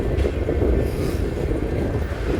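Venkatadri Express passenger train no. 12798, running on rails from Chittoor toward Kacheguda about 25 minutes late after leaving Kadapa. A steady, loud low rumble of wheels on track fills the whole clip, with some wind buffeting and no talking.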